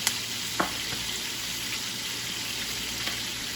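Butter sizzling in a single pan alongside flank steak and garlic scapes, a steady close crackling hiss with a few sharp pops and light utensil clicks, no voices over it.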